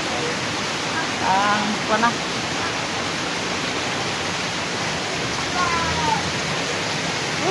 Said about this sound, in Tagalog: Grabe ang ulan, oh.